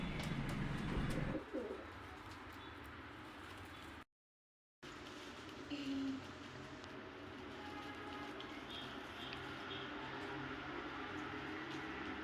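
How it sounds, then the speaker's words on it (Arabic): Pigeons coo and flutter while being hand-fed, with low repeated cooing near and faint bird calls around a steady outdoor background; a brief dropout breaks the sound partway through. "والحمام بيجي ياكل من ايده"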